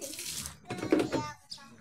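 Water scooped out with a dipper, with sloshing and pouring splashes in uneven surges and a brief splash at the end, a voice faintly mixed in.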